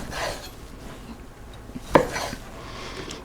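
Knife chopping fresh vegetables into big chunks on a cutting board while making chicken cacciatore, with soft scraping cuts and one sharper knock near the middle, no talk.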